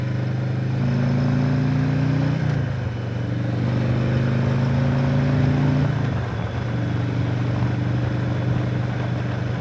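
A motorcycle ridden onto a highway in the morning, its engine running steadily near and loud throughout, with a couple of gear shifts and pitch changes as it accelerates.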